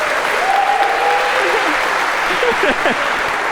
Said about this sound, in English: a huge round of applause for Yulia